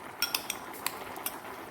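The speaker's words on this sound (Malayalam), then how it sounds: "നമുക്കിത് നന്നായിട്ട് സ്പൂൺ കൊണ്ടൊന്ന് ഉടച്ചു വെക്കാം." A spoon mashes boiled potato pieces in a bowl, producing a few quick, light clinks and taps against the dish over soft scraping, close and quiet, no talk.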